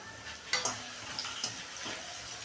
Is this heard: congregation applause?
no